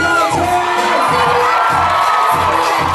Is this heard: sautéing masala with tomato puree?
no